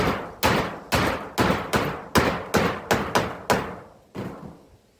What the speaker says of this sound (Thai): การตอกดอกแรกๆเนาะ